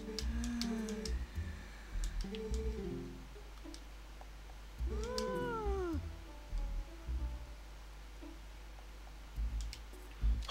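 A cat meows several times in the Zelda: Twilight Princess video game, with clear, rising and falling cries spread across the scene over faint game ambience and occasional clicks.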